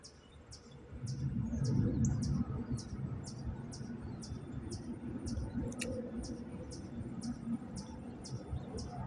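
Small birds chirp outdoors in a steady series of short, high repeated calls, fairly near, over a constant low rumble of background noise, with one brief sharper click partway through.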